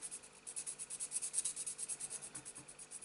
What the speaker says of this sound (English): Then I'll just get a bit of a sanding stick and just run it down.